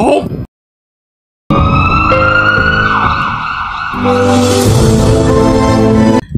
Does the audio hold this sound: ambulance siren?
yes